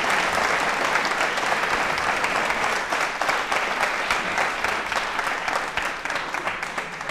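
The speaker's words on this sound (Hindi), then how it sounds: "तालियां बजाइए इस जानकारी के लिए जो आपके पास है" A crowd at a quiz show on elections, held at an institute of technology and management, gives thick, continuous applause that carries on steadily and loudly for roughly seven seconds.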